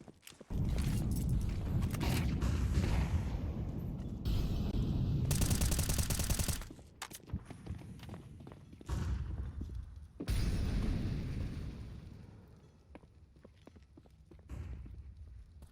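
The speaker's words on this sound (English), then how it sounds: "Bit of bullets flying across the map, but no damage has been exchanged yet" Gunfire in a Counter-Strike 2 match on the Overpass map: scattered bursts of rifle shots and distant crackling fire, alternating with quieter stretches of footsteps and game ambience.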